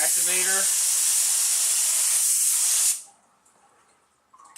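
Hydrographics activator sprays onto a heavy ink film in a loud, steady broadband hiss for about three seconds, then cuts off to near silence with faint room noise.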